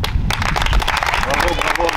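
A group of trainees at a training centre clapping for themselves after marching drill, a short burst of close, dense claps with voices talking over it.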